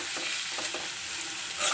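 Capsicum and tomato cooking in oil, a steady sizzle with a few stirring scrapes, close and continuous with no voices.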